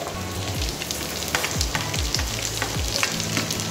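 Onion frying in a pan with garlic, a loud dense sizzle with repeated scraping stirs every half second or so, close up and without talk.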